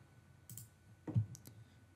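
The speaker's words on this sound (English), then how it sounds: "So it's the same if I click delete there." A few soft computer mouse clicks, two or three quiet taps spaced apart in a still room, with no talking.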